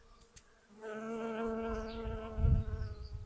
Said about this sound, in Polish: Nie, to są w sumie pszczoły.